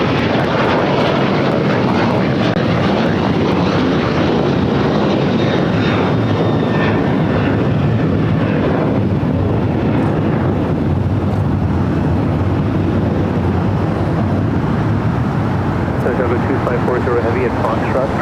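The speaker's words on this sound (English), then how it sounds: "Flight 1770 coming in from Newark on the 787-9 Dreamliner with United Airlines." A United Airlines Boeing 787-9 Dreamliner jet arriving at LAX roars loudly and continuously, with heavy wind buffeting the microphone throughout and no talk audible.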